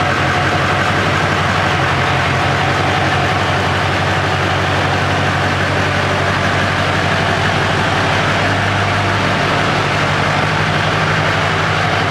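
A 2002 Duramax diesel truck engine idles loudly and close, a constant heavy rumble with no talk over it.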